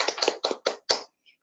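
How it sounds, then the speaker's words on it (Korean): A few quick hand claps at a small home business meeting, about five sharp slaps in a loose rhythm, close and brief, then silence. "박수드립니다"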